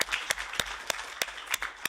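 Sparse clapping from a small audience at an event at the EESC, a few distinct sharp claps at irregular intervals, close and fairly thin rather than a full ovation.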